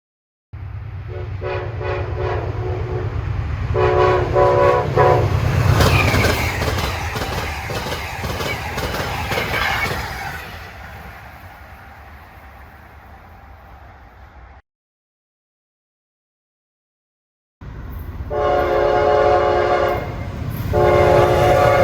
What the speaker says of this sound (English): Woo, those trains were flying.